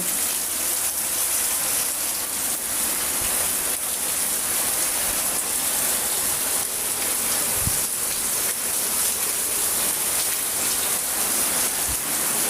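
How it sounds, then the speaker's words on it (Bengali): Heavy rain pouring down in a dense, continuous roar with occasional drops striking nearby, steady and loud throughout without any talking. "গত পরশু থেকে দুপুরের পর থেকে বৃষ্টি শুরু হয়েছে"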